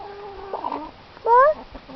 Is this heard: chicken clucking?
yes